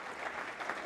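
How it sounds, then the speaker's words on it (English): An audience at the World Climate Summit, the Investment COP 2019, bursts into a brief, steady round of applause that fills the hall evenly. "So can we have a clap for the EIB, the largest public lender"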